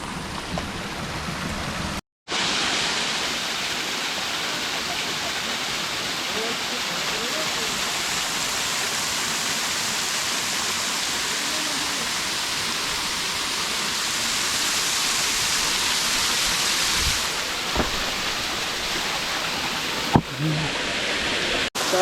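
A waterfall, its flow swollen after recent rain, roars as a loud, continuous wash of water at close range, with a brief cut near the start and a few faint knocks near the end.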